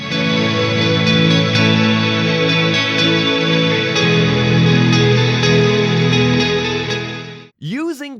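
A music mix drenched in heavy reverb rings with thick, washy sustained tones that blur together. Near the end it cuts off into a short, swooping processed sound.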